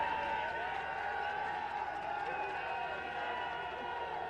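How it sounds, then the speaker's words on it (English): Crowd noise rises steadily at a college Division III football game between Alma and Manchester University, a broad sustained roar with mixed voices, fairly distant and continuous throughout. "There's a big cheer up from the Alma team"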